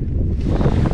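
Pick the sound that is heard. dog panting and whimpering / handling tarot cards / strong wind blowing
strong wind blowing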